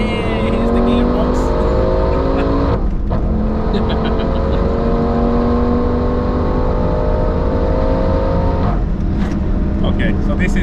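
A 900hp V10 Audi RS6 Avant C6 roars loud and close while accelerating hard at the Nürburgring, its engine note rising steadily through the gears with two brief dips at the shifts.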